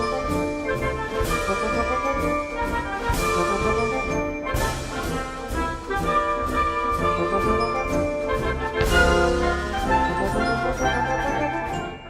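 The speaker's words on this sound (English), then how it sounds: "If we look at the Washington Post March, listen to the bass line, the left hand" A recording of the Washington Post March plays steadily, a full, loud band sound with a marching bass line and bright accented chords throughout, no talking over it.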